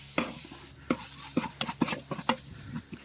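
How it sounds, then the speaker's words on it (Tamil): Green mango sautéed in ground paste in a pan: a spoon stirs and scrapes in about seven separate strokes over a soft, continuous sizzle, close and clear. "மாங்காய் சேர்த்து நல்லா வதக்கி விட்டுக்கலாம்."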